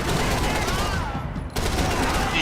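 Rapid video game gunfire bursts fill the whole stretch, loud and continuous with a brief dip midway, while a voice talks over the shooting.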